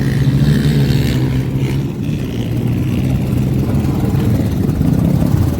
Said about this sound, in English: So here's the drag races.